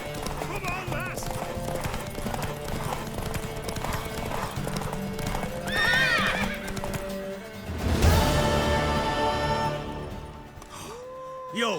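Horse in The Witcher 3, hooves clip-clopping at a steady rhythm alongside neighs and whinnies, with people talking over the game sounds.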